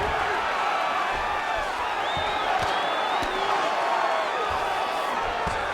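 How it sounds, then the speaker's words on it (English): Arena crowd at an MMA fight, cheering and applauding: a dense, sustained roar with whoops and whistles rising through it, with a commentator's voice running underneath. "Stand and cheer, ladies and gentlemen."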